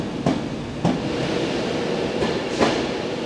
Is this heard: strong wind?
no